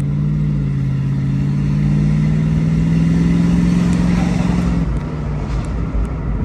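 A 1996 Ford Mustang GT convertible's 4.6-liter V8 idles and revs at a dealership, a loud, close, deep engine rumble that swells steadily before easing down near the end.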